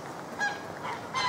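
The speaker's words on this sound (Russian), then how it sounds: "Гуси" Geese honk several times at a distance, faint short calls repeating in a loose rhythm over quiet outdoor background near Lindos on Rhodes, Greece.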